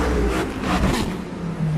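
A car engine revs in a steady, near roar that continues without a break and rises and falls slightly, with no talk over it.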